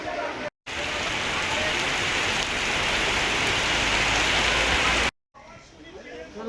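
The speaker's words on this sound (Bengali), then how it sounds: "নেমেছি সিঁড়ি থেকে আর প্রচুর বৃষ্টি চলে এসেছে" Heavy rain pours down at a Kolkata railway station on the Sealdah line, a dense, loud, unbroken roar that cuts off abruptly, leaving a softer hiss of rain before and after.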